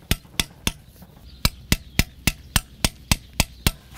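Wood carving with chisels struck by a mallet gives a close series of about a dozen sharp, evenly spaced taps, with a brief gap early on before the rhythm resumes.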